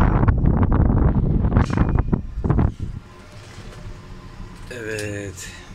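Gusty wind buffets the microphone high up on a tower crane, a loud rumbling roar for about three seconds before easing to a softer steady breeze, with voices speaking over it.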